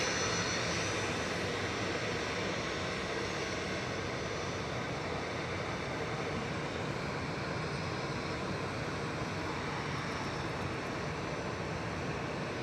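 An Airbus A320 Classic departing Manchester Airport for Malta produces a broad, steady jet engine roar, moderately loud and unbroken, with no speech over it.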